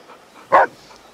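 A single sharp bark from a dog in Shadow Tactics: Blades of the Shogun, close and loud over a faint quiet background.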